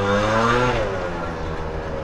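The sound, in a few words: Grandio motor scooter engine running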